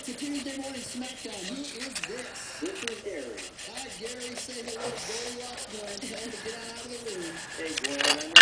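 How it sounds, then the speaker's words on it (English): Folded half-inch strip of sandpaper rubbing back and forth in a steady rhythmic scrape, fairly quiet and close, under a voice talking throughout. "One more time will be the 3rd time on each side of the sandpaper."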